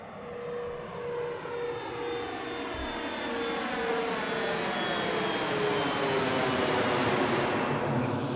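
A jet airliner on the runway at Washington Reagan National Airport roars as it powers up, a steady loud engine rumble with a rising whine that builds over several seconds, with no talk.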